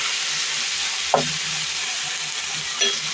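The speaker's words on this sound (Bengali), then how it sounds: "পেঁয়াজ রসুনের সাথে শাকটা একটু ভালো করে বসিয়ে নিচ্ছি" Leafy greens stir-fry in a pan with onion and garlic, giving a steady close sizzle broken by two short stirring scrapes.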